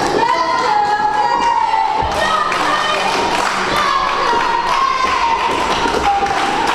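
A wrestling crowd at a UWC Online show cheers and murmurs steadily throughout, with thuds and shouts rising from the arena noise.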